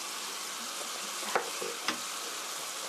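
Gochujang sauce stir-fries in a pan for seasoned spicy chicken under a steady, close sizzle, and two sharp clinks of a utensil against the pan punctuate it.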